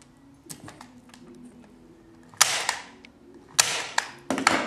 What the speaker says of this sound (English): I just take the staple gun, pop a couple of staples in there to hold it in place